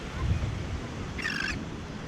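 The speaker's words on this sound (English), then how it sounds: "That was a seagull that flew pretty close, wasn't it?" A seagull calls once as it flies close over a St. Augustine beach, a brief, fairly clear cry rising above steady surf and wind noise.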